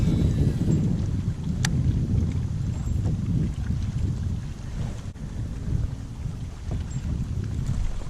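Strong gusts of wind roar across the microphone on a bass fishing boat in very windy conditions, a loud, steady, low buffeting with no talking.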